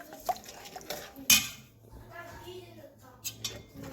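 Black soup being stirred in a cooking pot, with spoon scrapes and clinks against the metal, a sharp knock near the middle, and soft liquid movement, under light background voices.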